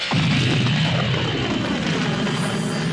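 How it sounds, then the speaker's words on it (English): Roaring engines of the Millennium Falcon from Star Wars fire up with a sudden onset, then hold a loud, sustained jet-like rumble and whine for the rest of the moment. "the loyal Wookiee Chewbacca fired the Falcon's engines and raced to save his friend."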